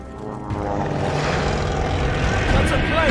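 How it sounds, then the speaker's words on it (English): A propeller plane in the video game Call of Duty: Vanguard drones loudly and grows steadily louder as it passes overhead, with the engine roar filling the scene and a faint whistle near the end. "That's a plane!"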